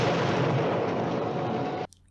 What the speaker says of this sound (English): Missile detonated.